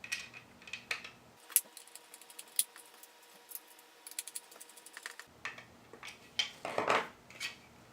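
Small machine screws fastening a handle piece onto an FDL-1 foam blaster produce light clicks and taps of screwdriver and plastic parts, sparse and close, with a brief louder rattle near the end.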